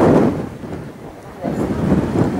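Strong wind buffets a cold Norwegian mountain near Gaustatoppen, roaring loudly and gusting against the microphone in uneven surges, with no voices over it.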